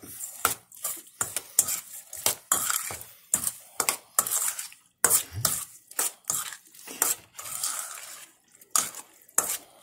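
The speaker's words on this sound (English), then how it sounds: "Teaspoon of salt, teaspoon of sugar. We're going to stir it all up." A spoon stirring salt and sugar into a bowl of orange juice, producing quick, close, rhythmic clinks and scrapes of metal on the bowl that repeat throughout with short pauses.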